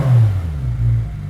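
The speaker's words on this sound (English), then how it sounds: "A couple courtesy revs for you." Porsche 991 GT3 with Dundon Motorsport exhaust and headers, a brief close rev of the engine with a deep, throaty drone rising and easing over about a second.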